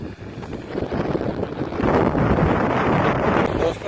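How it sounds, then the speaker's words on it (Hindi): Gusty wind sweeps across an open farm field during tractor laser land levelling, a steady broadband rush that swells louder about halfway through and holds, with no clear speech. "हवा कभी रुक जाती है कभी चलना स्टार्ट हो जाती है"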